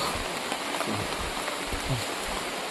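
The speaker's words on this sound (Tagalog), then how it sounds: "napakalakas na ng ulan" Heavy rain pouring down steadily, a dense, continuous hiss of drops beating on surfaces close by, with low rumbling underneath and no voices.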